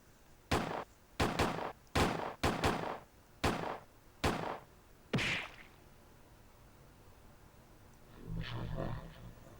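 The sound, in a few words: guns firing at a shadow in video game Persona 3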